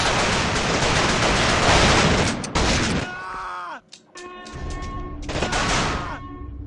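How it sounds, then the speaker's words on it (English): Rapid pistol fire in The Thing Remaster video game, a dense burst of close, loud shots for about three seconds, then a pause with mechanical clicks and a shorter second burst. "use the pistol as your main means to kill the security soldiers in this facility"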